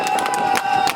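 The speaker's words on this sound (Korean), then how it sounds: "공감이 되시다면 큰 박수 부탁드리겠습니다." A campaign-rally crowd at Seoknam Geobuk Market cheers and claps in a short, loud, dense burst, with a steady tone running under the noise.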